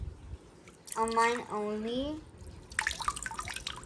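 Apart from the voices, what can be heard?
water being poured onto a toy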